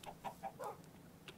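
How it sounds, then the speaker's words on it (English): Minecraft chickens give a few short, soft clucks in quick succession, faint and close, with no voices over them. "There's chickens."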